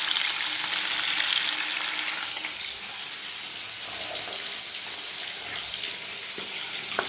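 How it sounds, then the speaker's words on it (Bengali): Snakehead fish pieces frying in a pan, a steady close sizzle and crackle holding throughout with faint clinks and small stirring noises, no voices. "এরকম মাছগুলো ভাজছি, মাছগুলো ভেজে নিই"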